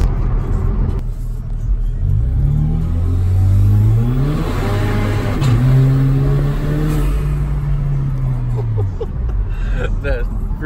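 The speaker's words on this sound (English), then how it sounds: "That freaking 1-2 pop is nasty." A tuned 2014 Chevy Malibu 2.0T with a BNR tune revs hard in an empty lot, its engine note climbing and falling loudly through several long pulls, with exhaust pops and rumble.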